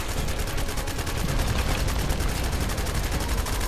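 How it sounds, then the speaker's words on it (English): Continuous rapid gunfire from The First Descendant shooter game, a dense, steady stream of shots at constant loudness throughout, with no gaps and no talk over it. "I'm shooting the guys by us."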